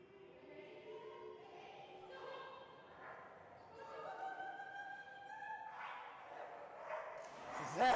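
Little poodle puppy Kiva barks during a dock diving distance jump, short yips rising under a busy announcer's voice, with a louder burst near the end.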